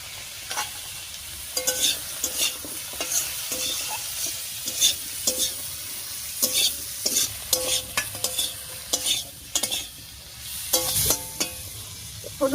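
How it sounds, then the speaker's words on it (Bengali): Vegetables mixed with salt, turmeric and chilli powder are stirred in a hot pan, with repeated close scraping strokes over a constant frying sizzle and no talking. "হলুদ, লবণ আর লঙ্কার গুঁড়া দিয়ে খুব ভালো করে মিশিয়ে নিয়েছি"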